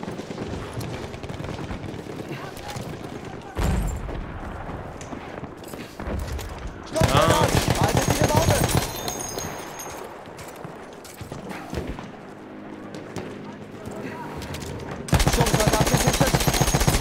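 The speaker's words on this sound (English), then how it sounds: "I can shoot a little bit of a support gun on him." A support machine gun firing in Battlefield 1, loud rapid bursts of automatic fire in several long stretches, with other battlefield gunfire around them and a player talking in between.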